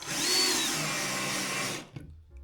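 A power drill driving a screw into wood whines steadily at high speed for nearly two seconds, then cuts out, leaving a few soft knocks and quiet.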